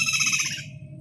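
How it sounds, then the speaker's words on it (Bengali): Birds call in a brief burst, a bright warbling phrase over a lower hooting tone, loud and close before fading out within a second. "সব পাখির ডাকাডাকি।"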